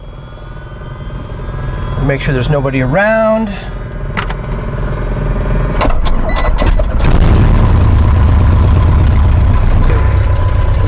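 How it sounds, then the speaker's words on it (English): A Zodiac 601/650 light aircraft engine cranks and fires up after a brief voice and some clicking, then settles into a steady, loud idle that continues to the end. "We're going to clear prop and start engine."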